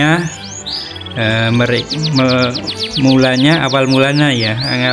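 A canary sings close and loud, with rapid, bright whistled trills and sweeping chirps repeating in quick bursts throughout.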